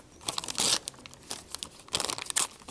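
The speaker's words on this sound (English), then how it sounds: "I'm going to take my scissors, I'm going to cut it right up the middle." Scissors cut a sheet of paper in half with several crisp, close snips and papery crinkles, coming in uneven bursts with short pauses between.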